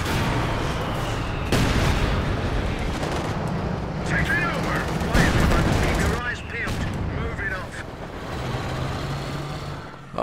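Dense, overlapping gunfire and explosions from a Company of Heroes 2 4v4 Annihilation battle on the OKW and Soviet side, a loud continuous barrage with sharp bursts and rumbling artillery, voices talking faintly underneath.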